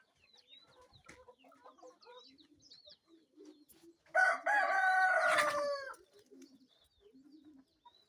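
Kienyeji chickens on a Kenyan farm cluck softly and intermittently at close range, then a rooster lets out one loud, drawn-out crow in the middle before the quiet clucking resumes.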